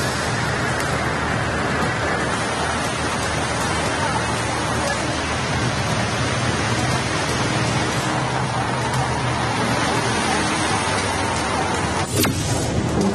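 Heavy torrential rain pours in Mangaluru as a dense, loud, unbroken roar that holds steady throughout, with one brief sharper burst near the end and no voices.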